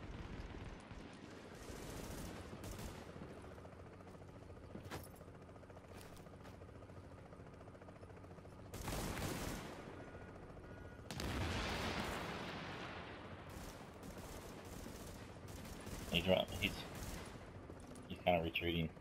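Gunfire in the shooter video game The Division: repeated bursts of shots and heavy booming blasts come in clusters over a constant low background rumble, some bursts loud and close, others further off.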